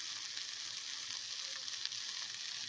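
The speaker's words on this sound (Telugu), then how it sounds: "సోయా చంక్స్ కూడా ఇందులో బాగా ఫ్రై అయిపోయాయండి" Soya chunks and mixed vegetables frying in a pan for vegetable rice, a continuous bright sizzle at an even level with faint stirring underneath.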